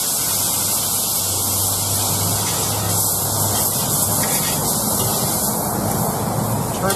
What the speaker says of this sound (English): But just like you deglaze a pan, I'm going to deglaze the surface.